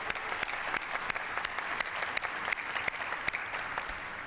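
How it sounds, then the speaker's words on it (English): Steady applause at a mass vaccination clinic at Ford Field in Michigan, a sparse crowd clapping evenly for about four seconds with a few sharp individual claps standing out. "let's applaud the heroic effort of our frontline healthcare workers and volunteers here at Ford Field and statewide"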